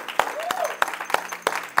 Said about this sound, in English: Give them a hand clap of praise.